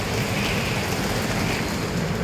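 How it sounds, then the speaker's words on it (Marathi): Heavy rain pouring outside a house, a dense, constant hissing wash of sound, loud and unbroken, with no talk. "खूप चांगला आता जोरात आहे आणि काही साफ जोरात आहे पाऊस."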